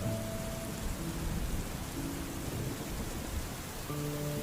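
Steady rain falls in a dense, even hiss of drops on surfaces, close and continuous, with faint tonal hums underneath and no voices.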